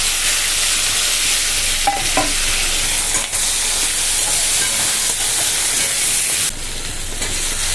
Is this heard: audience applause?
no